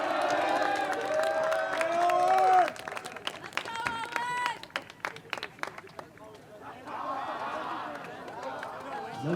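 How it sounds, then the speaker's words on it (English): Crowd at a high school varsity boys soccer game cheers and claps, applause rising then thinning into scattered claps and chatter, with an announcer's amplified voice over it. "Big round of applause for number 16, Owen Bella."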